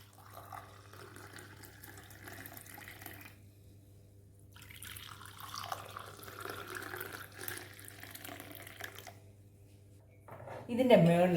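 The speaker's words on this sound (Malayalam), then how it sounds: "നമുക്ക് കപ്പിലേക്ക് ചായ ഒഴിക്കാം." Indian milk tea poured from a pan into a cup, a steady liquid trickle in several stretches with short pauses, ending in a louder clatter close by.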